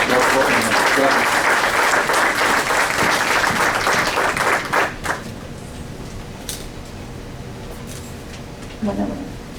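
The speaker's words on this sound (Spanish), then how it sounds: "cedo el uso de la voz y la recibimos con un fuerte aplauso" An audience at a conference on domestic violence breaks into loud, dense applause to welcome a speaker, holding strong for about five seconds before fading to a quieter room with scattered small sounds.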